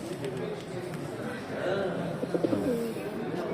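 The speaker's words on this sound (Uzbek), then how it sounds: "Mana figura kaptar ekan mana shu." Soft, low cooing of pigeons, several short repeated coos near the end, over a murmur of background chatter and outdoor noise.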